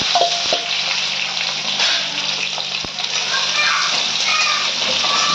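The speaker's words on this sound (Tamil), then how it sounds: "கொஞ்சம் லைட்டாக ஃப்ரை பண்ணிவிட்டு" Ivy gourd and curry leaves fry in an oil-filled pan with a loud, steady crackling sizzle close by. A few utensil knocks land near the start and once in the middle, under faint background speech.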